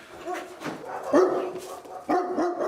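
A search dog barks in several sharp bursts spread across a short stretch, fairly close and loud, with no talking over it.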